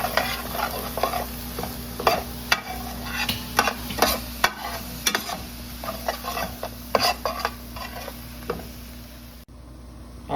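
Peppers and onions with salt and spices being stirred in a pan on the stove, a steady sizzle broken by repeated scraping and clacking strokes of the utensil, close and fairly loud, with no talking.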